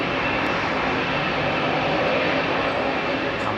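A Boeing Dreamliner jet at Heathrow gives off a steady, moderately loud engine rumble and hiss, held evenly across the brief stretch with no voices on top.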